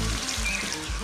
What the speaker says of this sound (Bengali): এখন আমি দিয়ে দেবো এর মধ্যে জল